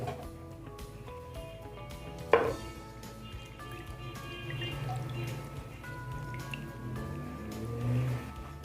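Liquid poured over a baking tray in a home kitchen, a soft continuous splash and trickle with a sharp clatter near the start, faint and steady throughout.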